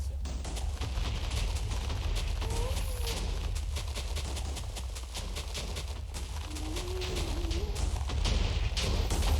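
Minecraft TNT blasts go off in a dense, rapid series of sharp cracks and thumps over a constant low rumble, loud and nearly continuous throughout.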